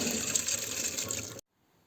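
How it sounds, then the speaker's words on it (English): Soaking water pours off rice as it drains, a loud steady gush that cuts off abruptly into near silence. "Let's drain the water after being soaking for 1 hour."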